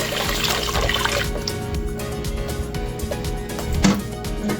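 Water poured from a blender into a cooking pot of Nigerian ogbono soup as the blender is rinsed. The pour is a continuous splashing rush that heavies briefly near the end, with no talking.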